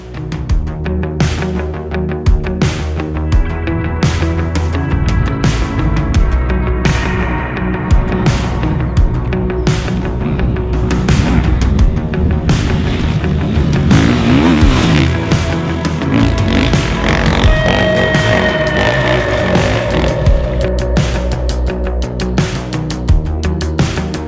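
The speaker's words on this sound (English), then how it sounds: "When you ride the Beta 500, it's like riding a full-on dirt bike." A 2020 Beta 500RR-S dirt bike on aggressive off-road tires is ridden off-road. Its engine sounds loud and close the whole time, revving and changing pitch as the rider works the throttle and shifts gears.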